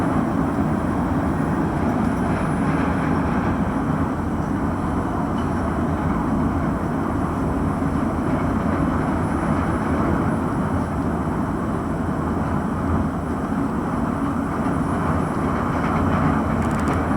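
A steady low rumble and rolling roar of a light rail train in motion, heard from inside, continuous throughout.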